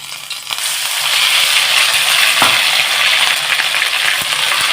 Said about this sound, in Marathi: आता आपण हा मिक्सरला बारीक केलेला मसाला याच्यात घालून घेऊया